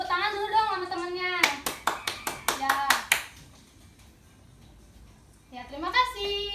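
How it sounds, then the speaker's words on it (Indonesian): Students in a classroom clap together in an even, rhythmic burst of about nine sharp claps lasting under two seconds, with children's and a teacher's voices heard just before and after. "Dan teman-teman kasih tepuk tangan dulu dong sama temennya."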